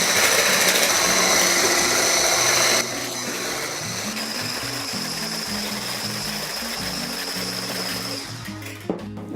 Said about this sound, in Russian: Взбиваем их вот до такого состояния.